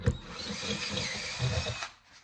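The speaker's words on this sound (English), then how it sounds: "We're gonna just drill it to the right size." Step drill bit boring out a metal washer to size during a 1982 Honda Big Red 200E rebuild, a steady close-up whine and grind lasting about two seconds before cutting off.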